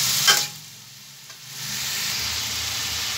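Spiny gourd (kakrol) being stirred with turmeric powder and salt in a frying pan: a sharp scrape near the start, a quieter pause, then a steady soft sizzle under light stirring, with no talking.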